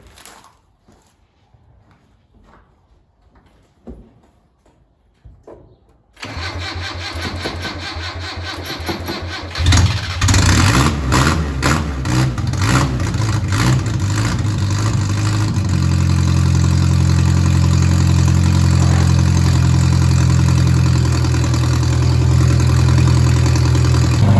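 A Datsun GN620 1500 ute engine cranks with a few uneven turns, catches and fires up, then settles into a loud, steady, close idle that smooths out and holds.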